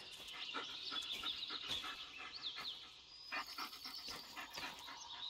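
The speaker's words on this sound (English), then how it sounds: "What's my dog whining?" A dog in the Blair Witch (2019) video game whines in thin, high, wavering tones and pants in short bursts, heard close and continuous throughout.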